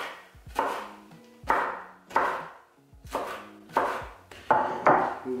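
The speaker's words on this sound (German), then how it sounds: "diese Peperonis schneide ich jetzt schön fein" Knife chopping four chili peppers finely on a board, with steady bursts of sharp, close cuts in groups separated by short pauses and no talk.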